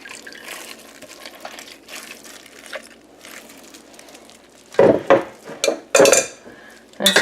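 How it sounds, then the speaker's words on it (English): A strainer being rinsed under running water in a kitchen sink during mozzarella cheese making, with soft water flow building to several louder splashing, clattering bursts near the end. "Actually, just rinsing my strainer out here."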